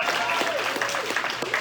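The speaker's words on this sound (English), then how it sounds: "Applause, please." A small comedy open mic crowd claps in a brief burst of applause, dense and fairly close, with some voices mixed in.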